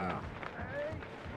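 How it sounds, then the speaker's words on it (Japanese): Soft, quick running footsteps in the horror game Dead by Daylight patter faintly under game sounds and a voice. "なんか足音聞こえない"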